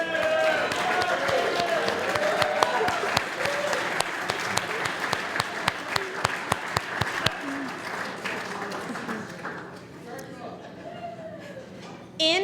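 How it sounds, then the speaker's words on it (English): Audience at a university alumni awards ceremony applauding former award winners, with sustained clapping and voices mixed in that thin out to scattered claps and talk toward the end. "can you please rise so we could give you a round of applause?"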